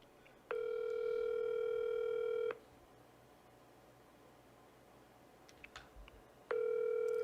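Telephone ringback tone purrs steadily in two long bursts, about two seconds on and then a pause, with a faint background hum and a few soft clicks between the rings.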